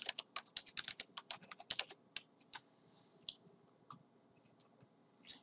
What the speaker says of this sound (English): I have to type this in correctly.